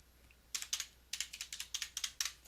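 A computer keyboard clatters close by as a password is typed: about a dozen crisp key clicks in quick, slightly uneven bursts after a short quiet start, with no talk.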